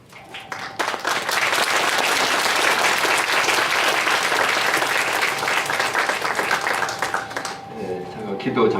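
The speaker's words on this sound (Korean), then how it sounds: "여러분 한번 박수로 환영해 주시기 바랍니다" A church congregation applauds to welcome an elder to the pulpit, dense sustained clapping that swells quickly and holds for several seconds before tapering off.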